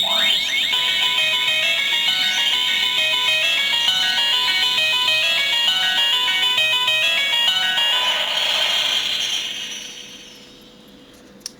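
A Proplica Moon Stick toy, held on its button, plays a bright chiming electronic melody with bell-like tones for about nine seconds before the music fades out into quiet.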